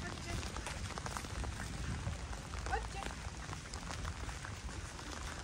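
Steady rain falls outdoors in a village housing estate in the countryside, a dense, even hiss of drops on hard surfaces with occasional louder spatters. It is close and continuous, with no clear talking.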